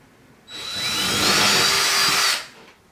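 A power drill with a 1/2 inch bit whirs up sharply, grinds steadily into a wall for about two seconds, then cuts off.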